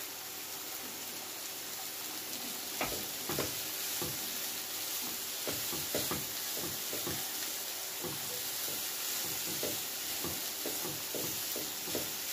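Green and red hot peppers fry in a pan with a steady crackling sizzle and scattered sharp pops and spatters, close by and without talk.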